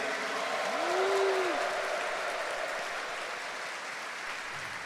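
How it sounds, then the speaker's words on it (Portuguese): A church congregation at an Ascension feast Mass breaks into applause, a soft, diffuse clapping that fills the room evenly and fades slightly, heard from some distance without distinct voices. "Isso também merece uma salva de palmas e um grito de alegria."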